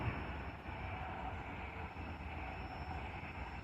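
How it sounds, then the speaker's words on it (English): An intermodal freight train bound for Chicago rumbles past as a steady, continuous low roar with broadband rail noise, holding a constant moderate level throughout without any voices. "That was a good sized intermodal"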